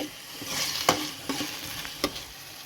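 Tomato ketchup is stirred into a sizzling pasta sauce in a pan, with a steady close fry and three or four sharp scraping strokes of the spoon.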